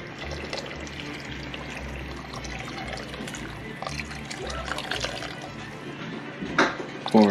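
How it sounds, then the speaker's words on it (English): A cornstarch mixture pours steadily into a pot with a soft continuous trickle, ending with a couple of brief clinks near the end. "So once you have your cornstarch mixture,"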